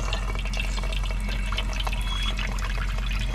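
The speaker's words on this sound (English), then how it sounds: "now I'll turn on the water" Tap water runs steadily into a weight-operated chicken waterer bowl fitted through half-inch line with a Freeze Miser valve, a continuous close splashing flow with no talking.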